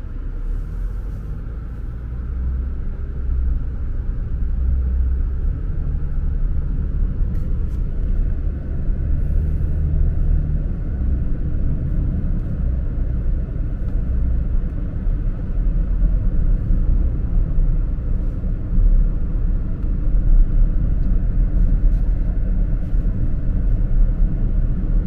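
A car drives slowly through the district market of Phu Phan, Sakon Nakhon, Thailand, its engine a loud, steady low rumble with road noise and faint surrounding street sounds, with no talking.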